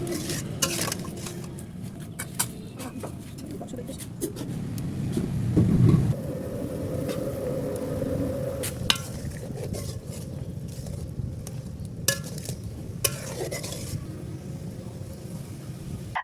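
Beef being stirred and cooked down in a wok with spices for beef biryani, its liquid drying and sticking: scraping stir strokes and clinks of the spatula against the pan over a steady low sizzle, close by with no talk.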